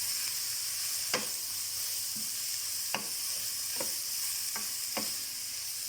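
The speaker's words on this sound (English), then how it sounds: "The carrot and the zucchini are going to cook as well." Carrot and zucchini fry in a pan with a steady sizzle, while a utensil stirs and taps against the pan about half a dozen times, up close and with no talking.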